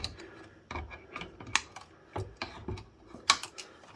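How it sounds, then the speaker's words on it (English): Cutters snip through wires inside a karaoke machine being taken apart, giving a series of close, crisp clicks and snaps at an irregular pace, with no voices. "So we'll cut some wire there, some wire there."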